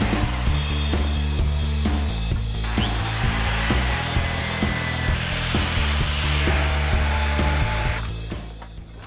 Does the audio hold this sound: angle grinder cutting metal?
yes